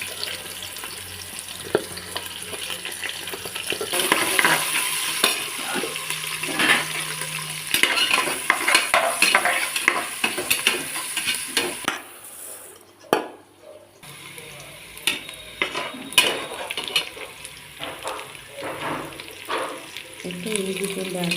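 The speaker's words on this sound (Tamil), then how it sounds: "வெங்காயம் நல்லா வதங்கணும்." Onions sautéing in ghee with garam masala for a prawn biryani, a steady sizzle and frying hiss with scattered spoon scrapes and clinks against the pot, close and fairly loud, with a brief lull midway.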